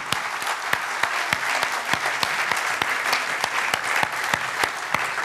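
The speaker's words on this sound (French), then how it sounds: "Et on peut applaudir..." An audience at an award ceremony breaks into sustained applause, a thick wash of many hands with sharper individual claps popping out in an irregular rhythm throughout.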